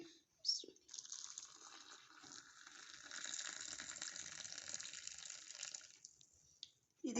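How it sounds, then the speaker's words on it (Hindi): Water poured steadily into a Kashmiri pink tea mix, a continuous liquid gush running for several seconds, close and moderately loud, with no talk over it. "मैं इसमें पानी डालूंगी।"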